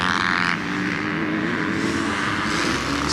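Off-road racing motorcycles, a KTM and a Yamaha, roar at a motocross track, a loud, continuous buzzing engine drone with brief surges of revving and no voices.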